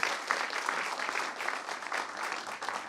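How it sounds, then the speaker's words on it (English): A conference audience applauds at the close of the event, a soft, steady wash of many hands clapping heard from a distance, continuous throughout without talk. "Can we give them a round of applause, please?"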